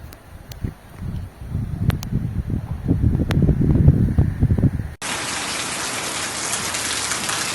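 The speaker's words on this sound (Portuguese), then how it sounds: "é chuva, é chuva" Heavy rain pours down in southern Brazil during a spell of bad weather, first a dense patter of drops on surfaces, then an abrupt switch to a loud, steady hiss of downpour with no voices.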